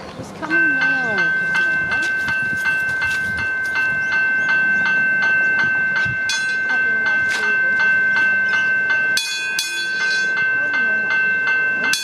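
A train approaches the Royal Park railway crossing while the crossing's Westinghouse hybrid bell rings steadily, a high tone running throughout, with rail rumble and other sounds building beneath it and a person speaking over parts of it.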